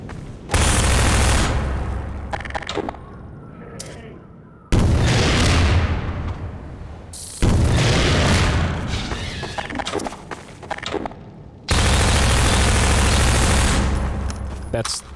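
Half-Life 2 combat with rocket explosions and gunfire, repeated loud blasts breaking out in four separate bursts, each decaying into rumbling debris, with a voice talking between them.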